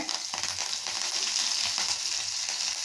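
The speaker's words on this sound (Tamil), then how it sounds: "நம்ம 2 வரமிளகாய் போட்டுக்கலாங்க. 2 கருவேப்பிலை தழை போட்டுக்கலாங்க." Dried red chillies and curry leaves crackle in hot oil for Ooty-style chicken varuval, with a dense, continuous bright sizzle close up and faint stirring.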